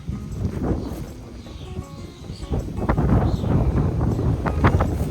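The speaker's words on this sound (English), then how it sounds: "I don't know why it's so windy" Gusty wind buffeting the microphone, rumbling low and rising in strength toward the end, with faint scattered knocks underneath.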